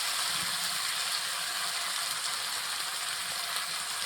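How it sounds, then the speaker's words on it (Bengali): Mutton pieces frying in hot oil for a pickle and red curry, a steady close hiss and crackle of sizzling fat that runs unbroken throughout, with no voices. "এখন ভাজতে হবে, মাংসটা সুন্দর করে ভাজতে হবে।"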